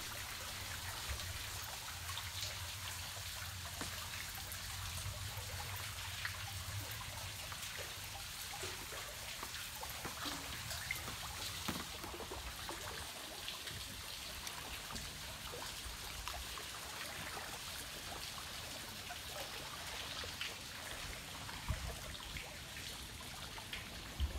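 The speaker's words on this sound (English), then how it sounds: "there was a small spring-fed waterfall to enjoy" Faint, steady trickle of falling water from a small spring-fed waterfall by a river in Black Canyon, splashing continuously and softly throughout.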